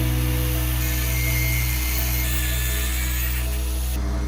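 Iron claw pieces being cut off a car alternator rotor with a power tool, a loud continuous high-pitched whining grind over a deep electrical hum, steady throughout and easing at the very end, with no speech.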